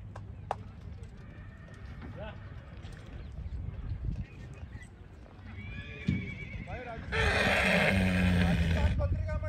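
Hooves clop and shuffle amid outdoor bustle and voices at a horse show in Jodhpur, with a horse's whinny and snorts near the end over a louder burst of noise.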